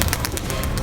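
Birds call in quick repeated chirps and coos close by, with a murmur of voices underneath.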